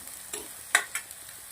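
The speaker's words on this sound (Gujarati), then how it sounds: "મસાલાને સરસ મજાનું શેકી લેશું બે મિનિટ" Chili powder, turmeric and salt roast in oil in a pan, a low sizzle broken by three or four quick scraping stirs of the spoon, close by and with no voices.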